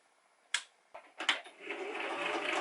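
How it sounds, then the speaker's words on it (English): A sewing machine runs a zigzag stitch along a strip of denim from old jeans, starting with a few sharp clicks and short bursts before settling into a quiet, continuous mechanical whir. "I'm gonna stitch alongside here and do an other zigzag stitch to secure it"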